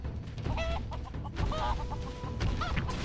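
Chickens cluck in short, repeated bursts in the video game Samurai vs Zombies Defense, set against a dense, busy game soundscape with constant background noise.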